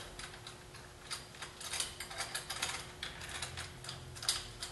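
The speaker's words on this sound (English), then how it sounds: "Got to twist these quite a bit because they were all set up for using gaskets." Metal clamps being twisted and ratcheted onto a hydraulic column packer for a 6 x 32 inch column, heard as a close run of quiet clicking, ticking mechanical turns with no talking.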